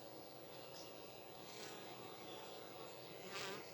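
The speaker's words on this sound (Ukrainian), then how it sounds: "Що наші бджілки шумлять." Honeybees buzz at a hive entrance in the evening as they return and fan the hive, a soft steady drone with a few louder passes near the end.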